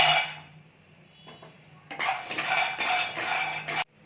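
Roasted almonds, about a hundred grams, clatter and rattle onto a plate in bright bursts after a quieter scrape, the pour loud and close before stopping abruptly.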